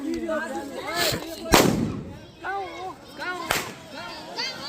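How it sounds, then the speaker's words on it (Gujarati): Diwali firecrackers go off in a few sharp, loud bangs spaced a second or two apart, close by, while voices chatter and shout between the bursts. "ચલો તો મિત્રો જુઓ કેવું ફોડેલા ફળાજીયા"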